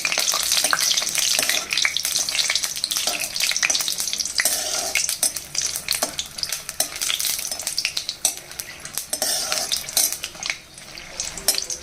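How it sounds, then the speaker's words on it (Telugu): Dried red chillies, five or six of them, frying in hot oil in a pan, a steady close crackling sizzle with occasional stirring scrapes throughout. "ఆయిల్ వేడైన తర్వాత ఇదిగోండి 5-6 ఎండుమిరపకాయలు ఇలాగా ఫుల్గా ఇలా వేగించేస్తున్నానండి"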